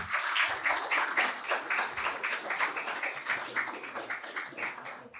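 Lively audience applause for a lawyer being honored at an event, with rhythmic surges of clapping, fairly close and full, continuing steadily without talk on top.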